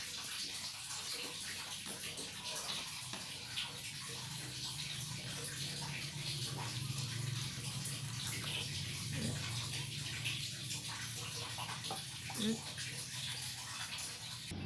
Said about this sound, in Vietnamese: mình sẽ cho một ít nước vô đây